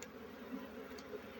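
Bees hum steadily at a beehive, a low, even drone close by with a small tap near the end.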